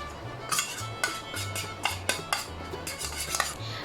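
A spoon stirs curd and a pinch of turmeric powder in a small bowl, clinking lightly against the sides in quick, uneven taps. The sound is close and fairly quiet.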